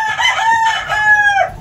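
Red-eyed African lovebirds call in a breeding cage, a loud, close, continuous series of shrill, tonal squawks and screeches with no talking.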